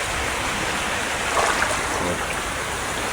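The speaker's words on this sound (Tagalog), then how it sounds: "kay kusog ang bulong sa tubig." Rushing stream water during heavy rain, a loud, constant broadband rush of flowing current close by, unbroken for the whole stretch with no voices.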